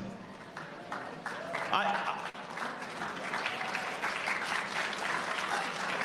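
A crowd at a political speech bursts into applause as a speaker's voice trails off. The clapping swells into a broad, sustained roar that fills the rest of the stretch and carries on evenly to the end.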